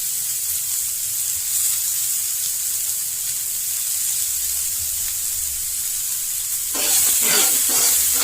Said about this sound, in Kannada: ಈರುಳ್ಳಿನ ಚೆನ್ನಾಗಿ ಹುರ್ಕೋಬೇಕು